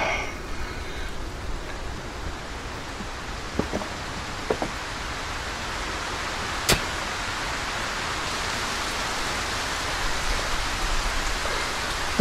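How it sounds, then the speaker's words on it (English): Steady rain falls in the video game Ylands as a continuous even hiss, with a few faint clicks and taps along the way and no voice over it. "It started raining again."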